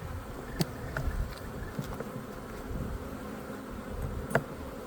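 Honeybees crawling over a hive frame during a colony inspection, producing a low, steady buzzing hum with a few sharper close wingbeat flicks passing near, no talking.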